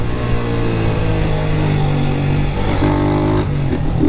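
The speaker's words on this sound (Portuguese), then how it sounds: "Comenta aí o que vocês acharam do barulho do escape." Honda CG Start 160 motorcycle with a new aftermarket exhaust riding on a street, its engine droning steadily and loud up close, with a short rise in revs near the end.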